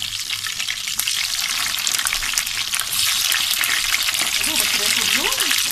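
Osban, stuffed sausage, frying in a pan of hot oil and butter, a steady close sizzle and crackle that runs throughout with faint kitchen clatter and no talk.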